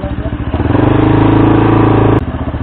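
A motorcycle engine idles and then revs up loudly near a big bike repair shop, its pulsing throb swelling for a second or so before dropping back to a chugging idle.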